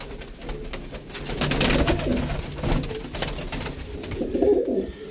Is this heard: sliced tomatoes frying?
no